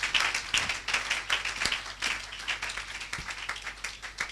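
A church congregation claps together in a lively, fairly steady rhythm, the applause carrying on evenly without a break and with no speech over it.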